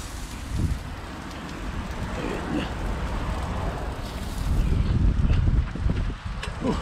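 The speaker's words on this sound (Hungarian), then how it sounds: "Van egy kis szél most éppen." Wind buffets the microphone outdoors, a rough low rumble that swells louder toward the end.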